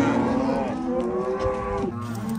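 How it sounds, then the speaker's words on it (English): Cows on a farm moo loud and close, one long drawn-out call sliding in pitch with more lowing behind it, no voices over the animals. "These are the first few cows to head out."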